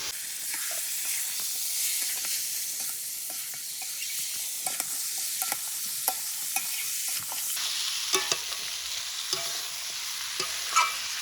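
Boiled mutton with potatoes and spices being stirred in a hot pan for a village-style steamed mutton dish, a continuous sizzle broken by repeated scraping and clinking stirs that grow crisper toward the end, with no voices.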